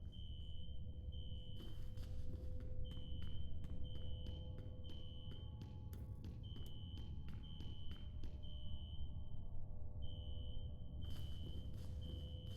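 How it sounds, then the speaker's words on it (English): A fire alarm rings in the video game F.E.A.R., set off in a security office: a steady, repeating electronic beep pattern pulsing at a regular rhythm over a low ambient hum, with some sharp clicks and thumps mixed in. "A fire alarm. It was triggered at a security office on that floor."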